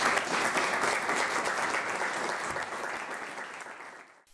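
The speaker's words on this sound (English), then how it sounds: "Please join me in welcoming our special guest with a round of applause." An audience applauds to welcome a special guest, a dense, sustained wash of clapping at steady volume that fades out at the end.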